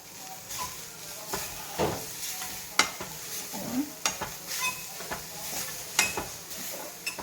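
Ground paste being stirred into drumstick leaf thoran in a hot pan, with a spoon scraping and clinking at a quick, irregular pace over a soft steady sizzle, close and moderately quiet.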